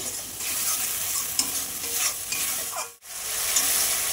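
Mustard spice paste with turmeric being stirred and fried for a bhola fish curry, giving a continuous close sizzle with spatula scrapes, a brief dip to near silence in the middle, then the sizzle resumes.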